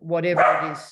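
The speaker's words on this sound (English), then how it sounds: "whoops, sorry about the dog" A dog barks in a room during an interview, giving one loud close bark-like yelp that overlaps a person talking.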